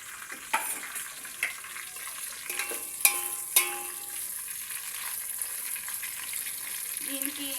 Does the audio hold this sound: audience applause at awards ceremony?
no